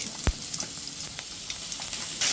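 Bay leaf, whole cumin and cinnamon crackle in hot oil for a Bengali fish curry, a steady close sizzle with a sharp knock near the start and small pops scattered throughout, no voices.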